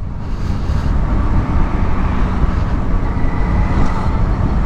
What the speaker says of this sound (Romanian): Dă, accelerează